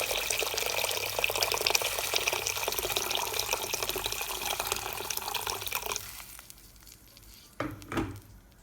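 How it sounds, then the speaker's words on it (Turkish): Boiling water is poured into a soup pot in a home kitchen, making a steady, close rushing splash that runs for about six seconds, then stops, with a brief knock or clatter near the end. "Kaynar suyumu da dolduruyorum."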